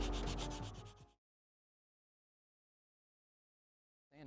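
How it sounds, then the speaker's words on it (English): Rough scraping of a rough-grit sanding block rubbing back and forth on a painted sneaker for about a second, then silence before another stroke begins. "So now I'm going to go ahead and use the sanding block"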